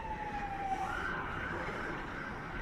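An emergency vehicle siren wails in a steady rising and falling tone over a busy indoor shopping-centre hum in Ottawa, moderately distant and continuous throughout.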